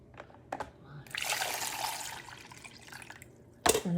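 Water poured into the reservoir of a Mr. Coffee 2129512 5-cup Mini Brew Switch coffee maker, a steady splashing rush lasting a couple of seconds after a few small clunks, ending with a sharp knock.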